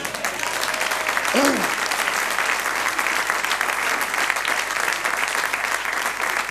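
Dense, continuous applause fills a church congregation's hall at a Friday morning service, loud and sustained throughout, with a brief voice rising over the clapping early on.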